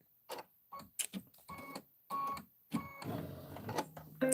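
An embroidery machine stitches a Kimberbell tiling scene, sounding as a series of short mechanical bursts and clicks in an irregular rhythm, fairly quiet and close, with no talk.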